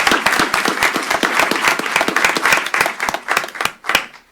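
Town council meeting attendees clap in a close, moderately sized round of applause, individual hand claps distinct and rhythmic, thinning out toward the end.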